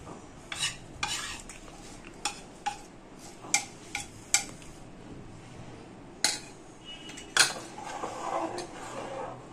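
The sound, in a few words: stirring khoya kheer into milk in a pan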